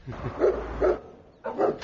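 A dog barks at a mail carrier on a postal delivery round, three gruff barks in quick succession, close and loud with a short pause before the last.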